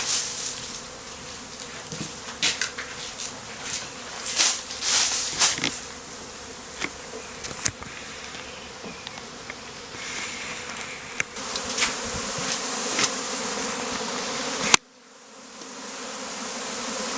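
Honeybees swarm in a steady, dense buzz around their hive on moving day, a close, continuous drone with brief louder swells as individual bees pass near, cut off abruptly near the end.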